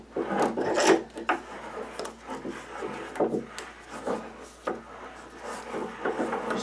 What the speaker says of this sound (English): you're going to turn the vise to pull it all the way in